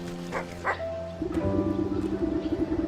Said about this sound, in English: anxious little dog attempts to frantically get to a town's guard attention